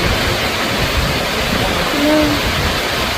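Water pours over Wawa Dam in a loud, unbroken rushing roar, dense and steady throughout, with a faint voice briefly audible beneath it.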